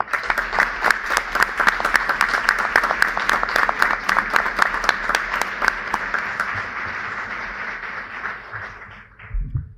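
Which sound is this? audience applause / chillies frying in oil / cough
audience applause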